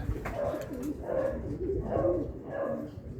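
Racing pigeons, mostly cocks with a single hen, arriving back at the loft after a club training flight and cooing, with repeated soft throaty coos rising and falling close by over a steady low background rumble.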